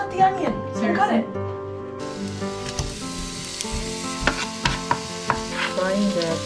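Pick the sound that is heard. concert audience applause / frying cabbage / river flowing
frying cabbage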